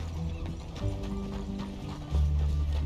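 Horse hooves clip-clop in Red Dead with a steady, close rhythm. The clopping is moderately loud over low outdoor game ambience and grows heavier toward the end.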